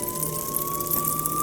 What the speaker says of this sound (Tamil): போலீஸ் வண்டி